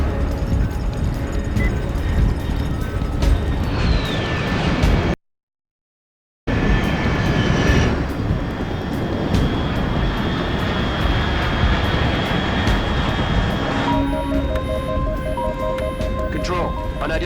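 Steady drone of an aircraft engine flying overhead in Metal Gear Solid 3, continuous and fairly loud with a brief cut to silence partway through and a faint electronic beeping near the end.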